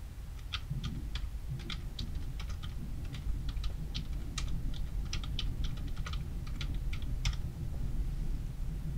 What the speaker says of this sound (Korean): 타이핑 할게요.